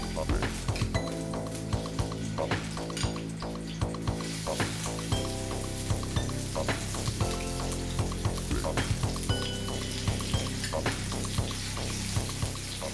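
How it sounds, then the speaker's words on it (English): Seafood frying in coconut oil for a Comorian stew, a loud steady sizzle and crackle close by with occasional spoon taps and clicks, a voice speaking over it. "I'm going to fry these guys in coconut oil"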